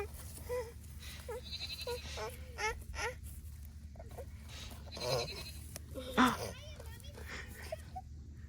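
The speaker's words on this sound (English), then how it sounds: "sheep are happy. They're loving the grass they've got in that area" Sheep bleat while grazing on grass, several short calls scattered at varying distances over a steady low background rumble, with faint voices mixed in.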